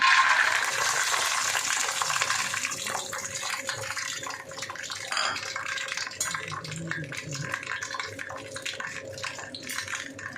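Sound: peanuts frying in hot oil in a pan

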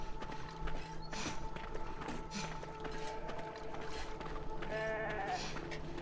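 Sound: sheep bleating in the video game Beyond Two Souls

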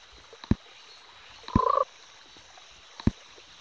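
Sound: frogs croaking in the Pocket Frogs app game

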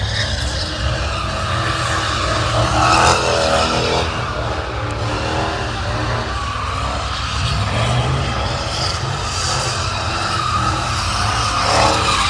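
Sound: car spinning out with skidding tires

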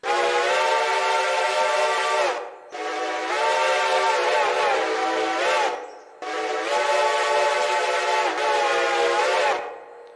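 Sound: Reading 6 chime train whistle in Railroader video game

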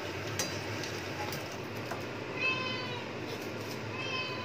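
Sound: cat meowing

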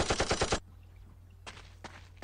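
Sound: machine gun fire in the video game Urban Chaos

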